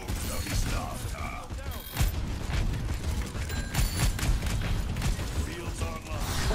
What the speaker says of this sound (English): Dr. Junkenstein lobbed his bombs at the castle.